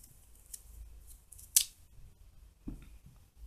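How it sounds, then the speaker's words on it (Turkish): A vegetable having its top and stem cut off to serve as a lid, heard as a single sharp, close snip followed by softer handling and a faint thud. "Öncelikle yapmam gereken sap kısmı, üst kısmını kapak olarak kullanacağım. Üst kısmından"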